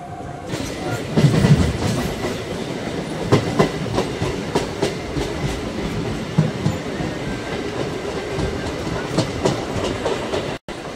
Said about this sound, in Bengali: এবার আমাদের ট্রেন ছাড়লো।